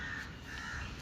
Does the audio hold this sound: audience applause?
no